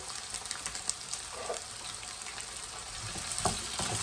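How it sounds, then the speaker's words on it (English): Courgettes frying in a generous amount of olive oil give a steady, close sizzle with light crackling and a few sharper pops and stirring sounds, and no voices. "The courgettes go in abbondante olive oil."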